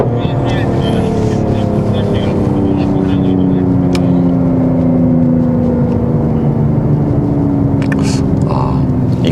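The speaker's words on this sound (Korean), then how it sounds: "좀 배기음이 좀 가깝게 들립니다." Mercedes-AMG GT 43 4Matic+ exhaust drones steadily from inside the cabin while driving on a track lap, with rising and falling engine tones as it shifts, continuous and fairly loud with speech over it.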